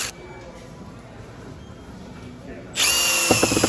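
A Milwaukee cordless drill revs up after a stretch of quiet room tone, a loud steady whine that holds to the end, with a voice heard over the motor.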